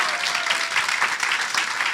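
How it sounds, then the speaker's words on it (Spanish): A church audience at a Spanish-language sermon bursts into dense, sustained applause, a steady wash of many hands clapping together, loud and continuous with no voices standing out. "Denle un aplauso al Señor"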